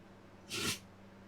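A puppy gives a single short, breathy sneeze close by, a quick burst lasting about a quarter second over quiet room hum.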